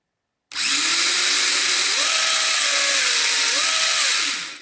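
Dromida 1/18 scale brushless RC touring car motor on a 2S lipo winds up to a loud, steady high-pitched whine, rising in pitch twice as it is revved, held alone for about four seconds.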